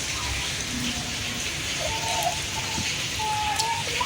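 Rain falls steadily outdoors, making a continuous even patter, with a few faint bird calls scattered through it.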